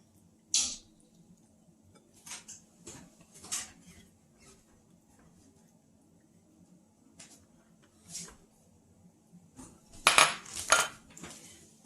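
A utensil stirs butter into a keto bread pudding mixture in a bowl, giving scattered clinks and scrapes in irregular bursts with quiet gaps, growing busier and louder toward the end.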